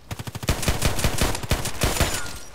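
Pistol fire in a sniper video game: a rapid string of sharp, loud gunshots, a quick burst at first, then heavier reports with some echo.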